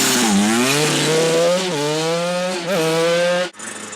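A motorbike engine revs and climbs in pitch as it accelerates up a drive, loud and close, with a brief dip before a final surge.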